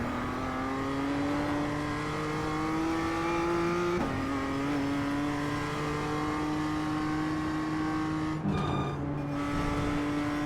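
A BMW M2 CS race car at Thruxton in iRacing drones at steady high revs, its pitch climbing through the gears with a brief dip and a rough, gritty patch near the end, loud and continuous throughout.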